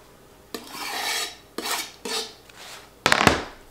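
A knife slices through a halved, peeled onion on a board in four crisp strokes, each a quick scraping cut that fades, the last one sharper and louder, close by with no talking.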